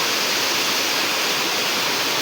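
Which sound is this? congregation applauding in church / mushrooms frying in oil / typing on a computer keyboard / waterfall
waterfall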